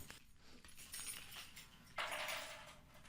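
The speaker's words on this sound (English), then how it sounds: "listen to Brandon put his keys down on the table" A set of keys is set down on a table with a faint metallic jingle and clink, close but quiet, followed by a brief soft rustle.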